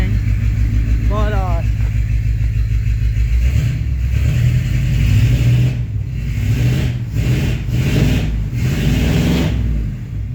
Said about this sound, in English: I'll rev it a couple times